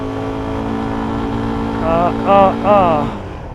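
A CFMOTO 300SR 300cc motorcycle climbs a steep, dangerous slope in second gear, a close, steady engine drone with strong harmonics, and a rider's voice rises in short exclamations over it near the end.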